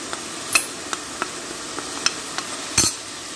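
Onions with added turmeric powder stir-frying in a pan for a chicken roast, a steady low sizzle broken by sharp scrapes and taps of a spoon against the pan, no voices.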